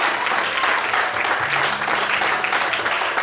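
A church congregation applauding the Lord during a sermon, loud dense clapping with a faint murmur of voices underneath, steady for the whole moment.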